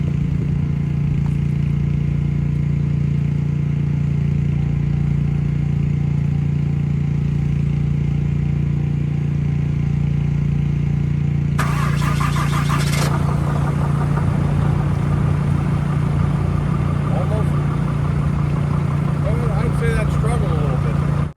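A loud engine idling steadily in winter storm cold with a deep constant hum, joined midway by clattering and rattling machinery nearby.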